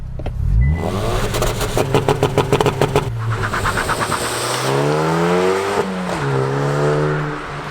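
A Hyundai i20 N hot hatch idles on a race circuit straight, then revs hard and launches, its pitch climbing steeply through several quick gear changes as it accelerates loudly nearby.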